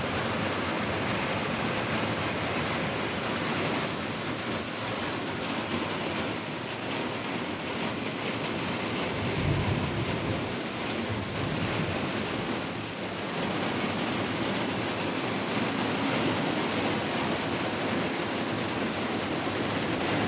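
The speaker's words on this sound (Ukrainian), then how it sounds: "Розу нашу обіб'є, мабуть, дощик" Soft, steady rain falls continuously outdoors, a broad even hiss with no voices, holding at a gentle level throughout.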